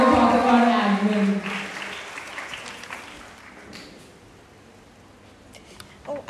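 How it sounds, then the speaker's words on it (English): An audience at a college orientation event gives a round of applause, loud at first and gradually fading to a faint patter, with talk over the start. "everybody just give a round of applause"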